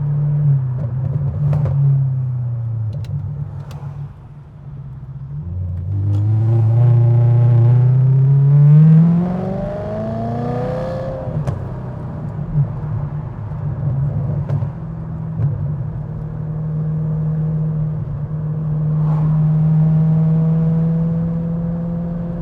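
A Maserati Cambio Corsa with a Ferrari 4.2 V8 idles, then revs up through the gears in third, the engine rising in pitch to a loud howl, dropping back and swelling again.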